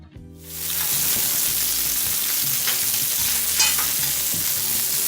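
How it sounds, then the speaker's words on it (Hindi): Cauliflower frying on a tawa over a low flame, a dense continuous sizzle and crackle that starts abruptly and holds steady and loud up close, with faint stirring beneath and no voices. "हम गोभी को इसमें थोड़ा सा भून लेते हैं, हल्का सा फ्राई करेंगे गोभी को।"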